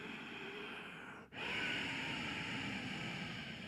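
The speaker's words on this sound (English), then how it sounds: "We elongate the breath, and it sounds like this." Ujjayi yogic breathing through a constricted throat: a steady, close, airy hiss that runs continuously for several seconds with one brief dip near the middle, heard alone without talk.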